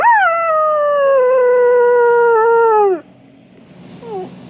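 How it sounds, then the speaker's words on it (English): A dog lets out one long, loud, soulful howl that holds steady for about three seconds before dropping off, followed by a brief, quieter whimpering note. "He lifted his head and let out a long, soulful howl."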